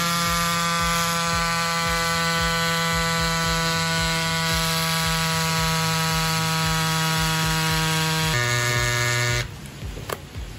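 Portable electric bike pump inflating a 2.35-inch mountain bike tire with a steady loud motor buzz that drops in pitch near the end before cutting off, followed by quieter handling noise.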